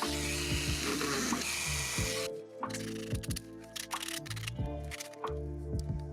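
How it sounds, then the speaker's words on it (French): An electric drill bores a hole through a small piece of wooden jewelry so a ribbon can pass through. A loud, rough grinding burst comes first, then a steady high motor whine with short pauses, close up and with no talking. "On va percer pour passer le ruban."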